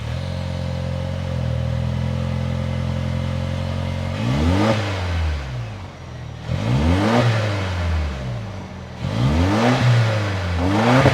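A 2025 Toyota 4Runner SR5's 2.4-liter turbocharged four-cylinder engine idles steadily, then revs sharply three times, each burst rising and falling back to a low rumble, close and loud.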